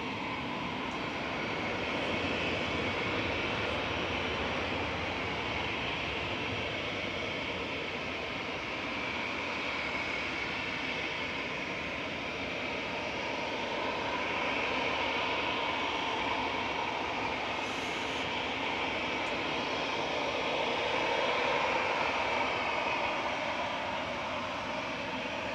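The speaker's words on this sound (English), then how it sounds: "So it's flight 202 from Dublin coming in" Flight 202 from Dublin arrives at Manchester Airport, a long, sustained jet roar with a deep rumble that rises and falls slowly in waves over about twenty-five seconds, moderately distant and steady.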